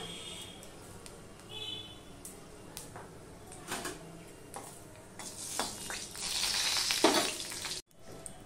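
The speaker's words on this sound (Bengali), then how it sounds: "দেখো তেলটা হয়ে গেছে। এবার আমি এখানে 5 ফোড়ন দিয়ে দিলাম।" Five-spice seeds with a little salt dropped into hot oil in a pan, a sizzle that swells and grows louder toward the end, with light stirring and utensil clinks close by and no talking.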